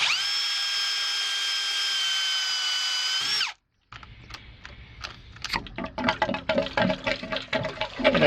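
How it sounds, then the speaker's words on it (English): A hole saw drill bores through a PVC pool pipe via a mounted saddle for a Jacuzzi mineral cartridge install: a steady high motor whine for several seconds, a brief stop, then loud grinding, chattering cuts as the saw bites into the plastic. "We're going to go ahead and drill out the hole."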